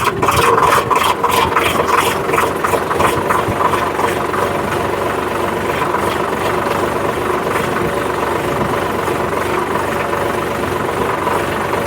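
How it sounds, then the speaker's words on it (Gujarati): A tractor engine runs nearby with a steady, rumbling chug and slight knocking, holding an even level throughout. "હું અત્યારે એ વસ્તુ તમને બતાવું કે હવે હું સીધે સીધું આવી જાઉં છું"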